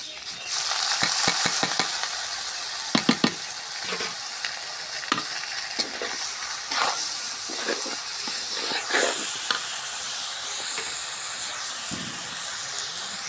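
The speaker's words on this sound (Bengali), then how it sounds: "এখন পোলার চালটা দিয়ে দেবো।" Polao rice is stirred into browned fried onions in a pan, with a loud sizzle and hiss broken by a scrape from the spoon every so often, close and with no talking.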